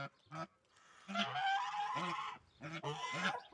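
Chickens clucking and honking in short bursts, close by, with pauses between calls and no speech.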